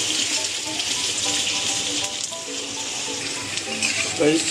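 Potatoes frying in oil in a Bengali kitchen give a dense, continuous sizzle that holds steady and close throughout, with faint stirring and a brief bubbling flare near the end.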